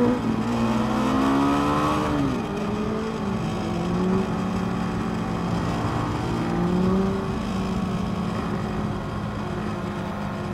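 BMW G310GS single-cylinder motorcycle engine on a race track, loud and continuous close by, revving and climbing in pitch before dropping back and rising again through the gears.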